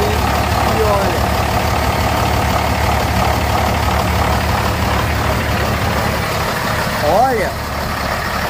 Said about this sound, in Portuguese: esse motor não entrou nem em temperatura de trabalho ainda